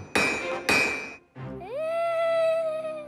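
Two loud ringing clangs of a blacksmith's hammer striking metal in a cartoon story, each with a bright metallic ring, followed by a rising tonal cartoon sound effect.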